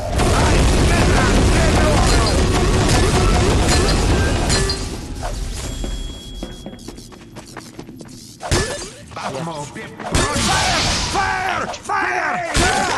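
In the Team Fortress 2 Halloween Scream Fortress game mode, a loud booming bomb explosion comes amid chaotic combat noise, with crashes and bursts of gunfire and voices scattered through the dense, shifting action.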